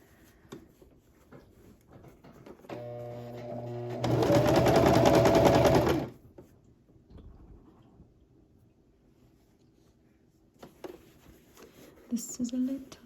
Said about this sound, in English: now I'm gonna start sewing the top of the band collar all the way up the top